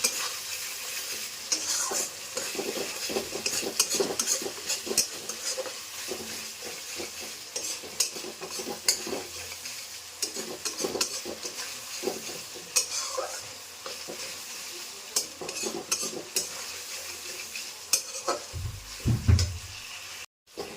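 Crab masala with tomato sauce is stirred in a frying pan, with a spatula scraping and clinking against the metal over a continuous sizzle, close and steady, with no talking.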